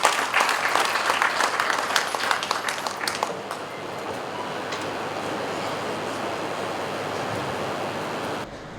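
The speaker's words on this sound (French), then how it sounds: "Nous allons encore une fois applaudir pour le président Papi Kazamouangé pour ce discours majestueux." A political gathering in Lualaba, where an audience applauds after a speech. Loud, dense clapping for about three seconds thins into a steady crowd wash that carries on until an abrupt cut.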